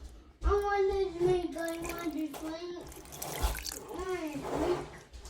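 Water runs steadily from a kitchen tap into a cup while chuck roast is prepared for a pressure cooker. Someone talks throughout over the close, continuous flow.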